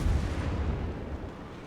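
Naval gun salvo from warships in World of Warships, a loud, heavy booming rumble dominated by deep low end that rolls on steadily for the whole stretch with no talking.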